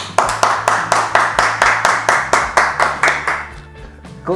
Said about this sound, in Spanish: Le damos un fuerte aplauso a don Oscar Ellis Maturana